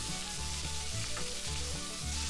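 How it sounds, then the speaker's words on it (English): Pork and onion sizzling steadily in melted butter in a frying pan, a loud, continuous crackling hiss up close with faint stirring underneath and no talking. "Fry pork and onion."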